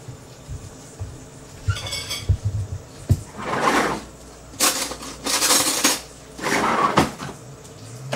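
A pork chop in thick, syrupy currant sauce is plated, with clinks of cutlery on a plate, a few dull knocks and scrapes, and bursts of louder clatter in between short pauses, up close and with no talk.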